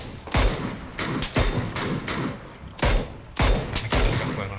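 Rapid bursts of gunfire in a PUBG match, several loud, sharp shots in quick irregular groups with booming low thumps, close and dominant, no talk over them.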